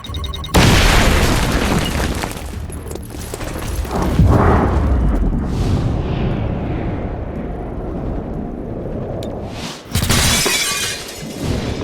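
Grenade blast in the video game XCOM: Chimera Squad, a loud booming explosion with shattering glass and debris that rumbles on for several seconds, followed by a second burst of crashing near the end.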